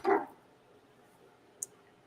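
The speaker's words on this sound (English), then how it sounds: "I hear my dogs again" A single short dog bark sounds at the start, muffled and somewhat distant indoors, followed by near silence and one small click.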